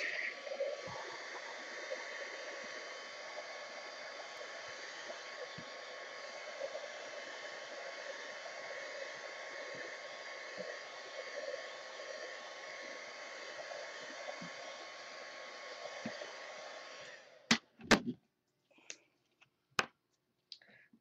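A heat tool blows a steady, even whir as it dries a mixed media art journal page, running for about seventeen seconds before switching off, followed by a few sharp clicks and taps.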